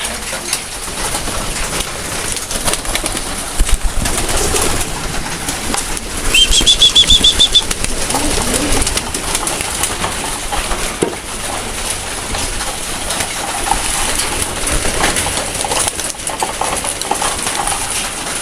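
Racing pigeon hens in a loft give soft, continuous cooing with a few bursts of wing flapping, heard close against a steady hiss of background noise.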